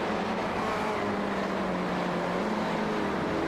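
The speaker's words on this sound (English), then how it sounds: "Nice little bit of engine moment as we just watch Crockett go through the gravel" A race car engine runs steadily on a track as the car goes through gravel, a continuous mid-distance drone with a slowly shifting pitch, fairly faint and alone.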